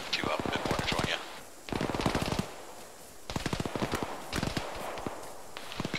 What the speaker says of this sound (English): Gunfire east as well.